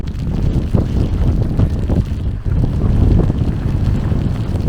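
Strong, cold, wet wind at Upper Kananaskis Lake buffets the microphone in loud, rumbling gusts, with a blustery roar that barely lets up throughout.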